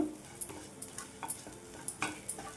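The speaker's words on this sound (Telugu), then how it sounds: "మొత్తం కలిపేసుకోవాలి మొత్తం కూడా ఒకసారి కలిపేసుకొని" Chili powder being stirred into onions for an onion chutney, a spoon scraping the pan in a run of short, close, irregular strokes over a faint background.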